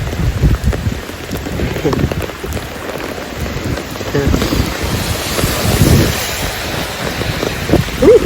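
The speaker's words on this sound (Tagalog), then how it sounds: "walking in the rain" Steady rain patters and hisses outdoors on a cold February day while someone walks along after grocery shopping, with wind buffeting the microphone and occasional brief voices mixed into the continuous wash.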